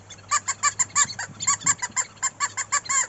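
A second squirrel hunting call blown in a quick rhythmic run of about fifteen sharp, chattering clucks, loud and close, with no talk over it.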